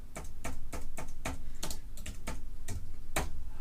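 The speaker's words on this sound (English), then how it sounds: "I'll try 72, and we'll just type" Keys on a computer keyboard clatter in a quick, uneven run of close, crisp clicks, about a dozen strokes with no talking.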